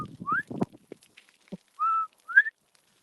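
A person whistles an imitation of a bobwhite quail call outdoors: a rising two-note whistle, then after a pause a steady note and a sharply rising final note, with some brief rustling and handling noise at the start.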